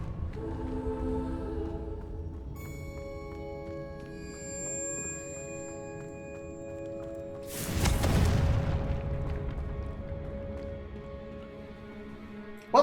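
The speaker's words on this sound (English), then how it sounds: "Confringo." A Confringo blasting spell bursts in Hogwarts Legacy, a sudden loud boom partway through that rises over sustained tonal game music and decays slowly.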